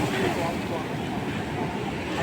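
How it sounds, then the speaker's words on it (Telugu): Sea waves breaking at RK Beach, a continuous broad wash of surf with wind noise, steady and moderately loud throughout. "అయితే ఆ సముద్రం అలలు సౌండ్ వినిపించుదామని నేనైతే అక్కడ"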